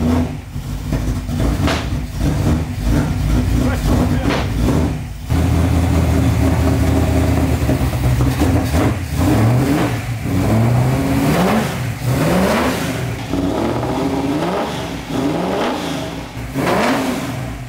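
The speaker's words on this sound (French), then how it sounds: "Elle démarre la Mustang, Mathis?" Ford Mustang engine turning over and revving, a loud, rough V8 rumble rising and falling through several throttle blips over steady idle, close by and dominant, with no speech.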